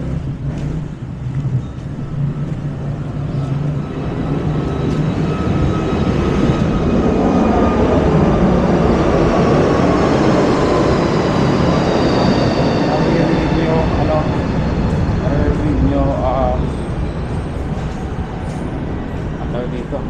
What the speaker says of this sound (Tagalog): may mga talaga may mga aeroplano, diba? Kasi malapit sa airport kasi.